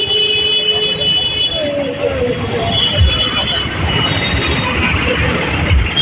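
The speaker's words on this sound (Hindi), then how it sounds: "ये देखो हैदराबाद की ट्रैफिक।" Hyderabad city traffic rumbles in a steady, dense roar close by, with occasional squeals and thumps, while people talk over it.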